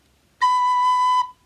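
A single clear recorder note played with one finger covering a hole, steady and bright, held for under a second and then stopping cleanly.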